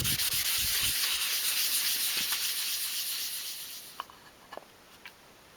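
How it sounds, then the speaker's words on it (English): Kitchen towel buffs wax off a 1/12th scale miniature wooden coffee table with close, continuous rubbing strokes for about four seconds, then stops, leaving a few small taps and handling sounds. "just turn to a clean piece of kitchen towel, and then you can just buff that off"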